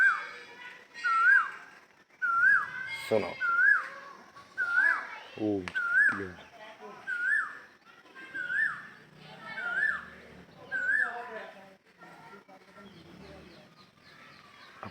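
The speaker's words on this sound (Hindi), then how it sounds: "अब जी कोयल बोल रही है" An Asian koel calls repeatedly in an outdoor setting, a clear rising whistled note returning roughly every second and a half, fairly close and loud, over ongoing conversation and background chatter.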